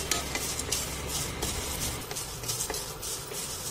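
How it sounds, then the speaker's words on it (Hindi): Cornflakes roast in leftover oil in a pan, giving a dense, continuous crackle and sizzle with light scraping and stirring, heard close up and without any voices. "सुन पा रहे होंगे इसमें कितनी अच्छी क्रिस्पीनेस इसकी आवाज़ आ रही है।"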